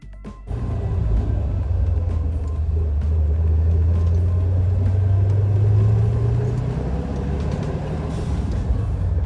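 A 1963 Corvette C2 fitted with an N11 exhaust rumbles loudly and close, its deep exhaust note rising steadily as it pulls away and then easing off, with no talking.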